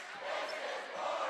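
Crowd chanting in unison at a high school boys basketball game between Monona Grove and Jefferson, a brief rhythmic burst of many voices filling the gym.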